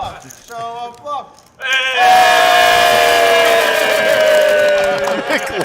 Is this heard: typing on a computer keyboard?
no